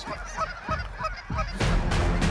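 A flock of geese honks overhead in a series of nasal calls with no talk, building toward a louder, denser burst near the end.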